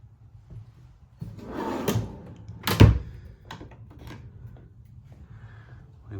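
Pull-out pantry drawers in an RV kitchen sliding open and shut, with several soft rolling thunks and one sharper knock near the middle, close by and without talk.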